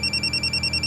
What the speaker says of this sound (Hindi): आनंद का फोन है, क्या बोलूं? उठाओ, बात करो उससे